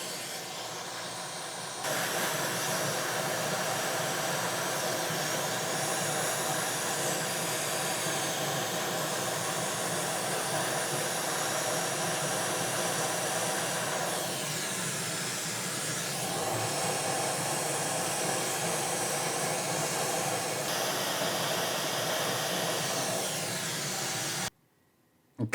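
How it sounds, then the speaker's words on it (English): A heat gun blows a steady hot-air hiss onto a PlayStation 5 motherboard while solder is cleared from USB port holes, a constant close rushing that holds unbroken for about 23 seconds before cutting off. "we're going to come back in with the heat gun and our solder sucker and just remove the solder from the holes"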